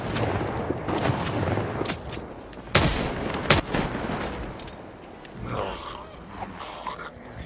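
Shotgun blasts in Project Zomboid, two loud sharp booms a second apart inside a dense, noisy game mix, with a softer scuffle and rustle trailing off afterward.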